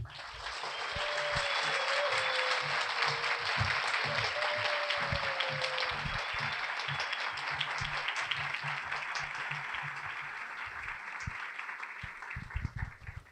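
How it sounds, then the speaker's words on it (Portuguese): A packed theatre audience applauds at a festival book launch in Belo Horizonte, a long, full swell of clapping that holds steady for several seconds and gradually thins. "eu queria pedir uma salva de palmas de todo mundo para a Aline Bey"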